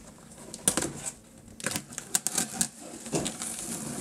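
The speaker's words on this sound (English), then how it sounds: "I can barely cut it with a knife." A knife works through a thick, roughly 4.5 mm cardboard shipping box, giving a scattered series of short, crunchy scraping bursts, quiet and close, with no one speaking.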